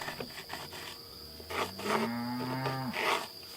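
A lost cow moos nearby in a long, drawn-out low call that rises slightly before it ends, set against a steady insect-like whine and faint outdoor background.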